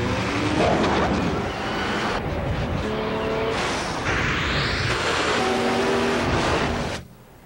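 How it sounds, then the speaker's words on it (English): A 265-horsepower Nissan Maxima drives past in a commercial, its engine roaring steadily and loudly with road and wind noise under music-like tones for about seven seconds before cutting off abruptly. "The 265 horsepower Nissan Maxima."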